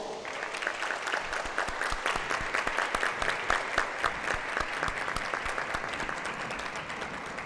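A large audience at a national lottery draw ceremony gives a big, sustained round of applause, sharp individual claps crackling through a thick, even wash of clapping from start to finish.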